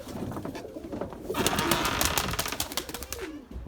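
An Erzurum white pigeon flies in with a burst of rapid, sharp wing claps that starts quietly and grows louder and closer midway, then trails off, with outdoor background noise behind it.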